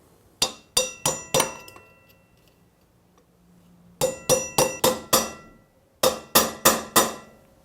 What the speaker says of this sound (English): get the pin in, and just tap it in with a pin punch